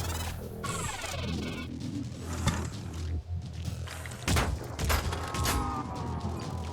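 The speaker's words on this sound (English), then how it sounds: "clipping his head with heavy automatic fire" Heavy automatic gunfire in the tactical video game Phoenix Point, loud dense volleys over a constant low game rumble with sharp impact cracks scattered throughout.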